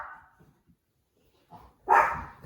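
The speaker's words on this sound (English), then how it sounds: "Dog's barking." A single sharp bark from an indoor dog rings out loud and close after a few faint, scattered noises.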